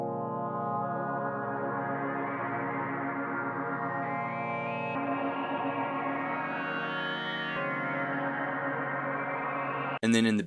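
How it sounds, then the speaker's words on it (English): Reverse Dreams preset played on a Juno 6V synthesizer: a sustained, swelling pad of layered chords with shifting harmonics and an echoing, reversed-feeling wash, ending in a short burst of noise. "So first we've got this Reverse Dreams preset in Juno 6V,"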